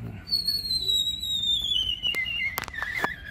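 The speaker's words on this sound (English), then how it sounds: "these things are making a weird squeaky sound." A thin, high squeaky whistle from a telescope mount glides slowly downward, then breaks into a few short squeaks, heard over low background rumble and faint voices.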